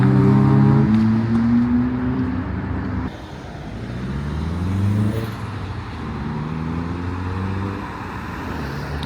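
Cars leaving a car meet, among them a Mazda RX-8 with a big rear wing, engines revving and accelerating past at moderate distance, one fading before the next approaches.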